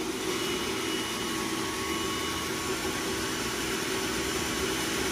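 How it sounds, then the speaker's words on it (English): An Actionpac pneumatic vacuum loader sucks up product with a loud, steady roar of rushing air and motor noise that holds at an even level throughout, with no talking. "So basically you just turn it on and you'll see it starts sucking up the product."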